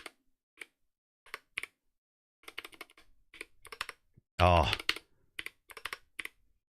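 Keys click on a small Commodore calculator that also works as a keyboard add-on. The close, sparse, irregular presses come in little clusters, with a louder burst midway where a voice briefly speaks.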